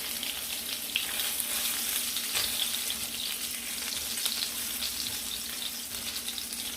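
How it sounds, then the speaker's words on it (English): Spam slices frying in hot grease in a pan over medium heat, a steady dense sizzle with constant crackling pops, close and fairly loud throughout with no talking. "This grease is popping, guys. It is really popping."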